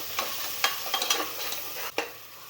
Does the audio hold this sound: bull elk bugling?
no